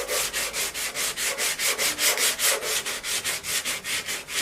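Rhythmic back-and-forth sanding on a Classic Mini part, about four or five even strokes per second, close and steady with no voices.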